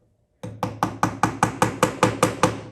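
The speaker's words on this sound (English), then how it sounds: "you need to hammer that into hole number 4" A nail is hammered into a hole with about ten sharp, evenly spaced strikes, close up and steady, with no talking.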